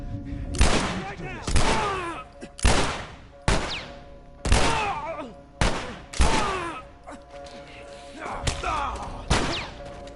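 Gunfire in The Last of Us Remastered, a series of loud, close shots in quick succession with short pauses between bursts, each blast followed by a brief echoing tail.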